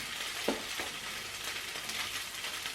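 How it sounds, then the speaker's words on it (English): Food fries in a pan with a steady broadband sizzle, broken by a few soft stirring or scraping knocks early on. No one speaks. "So I'm just gonna cook it real quick."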